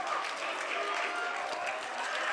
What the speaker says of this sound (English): The team was applauding their supporters, and the supporters were applauding the team